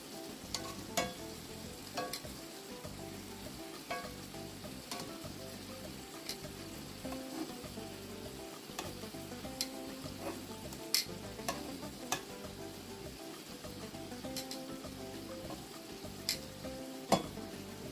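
Shrimp fry in a pot with a steady, fairly quiet sizzle, broken by intermittent sharp ticks and pops and soft stirring scrapes, no voices.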